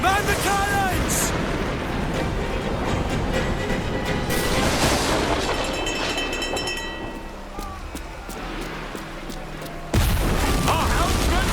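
Naval battle in Assassin's Creed Black Flag, with loud, dense cannon fire and booming blasts under constant battle noise and shouting crew voices, dipping briefly before another heavy burst near the end.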